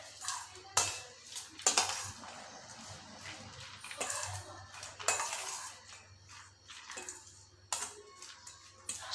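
A chatpata salad is stirred with lemon juice in a bowl, with a spoon clinking and scraping against the dish in repeated bursts at close range, without any talk.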